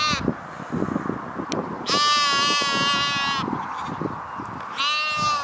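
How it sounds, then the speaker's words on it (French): Sheep bleating loudly at close range in two long, wavering calls, with shorter bleats and background chatter around them. "Oh, le mouton, tu te calmes"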